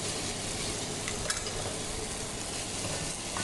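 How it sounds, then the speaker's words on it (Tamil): Spinach sautéing with crushed anchovies for keerai curry, a dense continuous sizzle close up with faint stirring, even and unbroken throughout. "ஸோ இப்போ நல்லா வதக்கி விட்டுக்கிறேன்."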